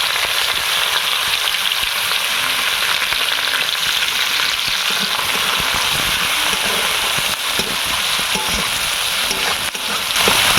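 Finely chopped onions fry in hot oil in a pan, making a loud, dense, continuous sizzle and crackle that stays close and steady throughout with no talking.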